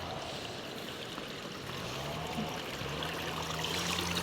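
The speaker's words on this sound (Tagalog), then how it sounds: "Dito po ay may bukal." Water flowing from a natural spring outdoors, a steady, close broadband rush and trickle that continues evenly throughout with no voices.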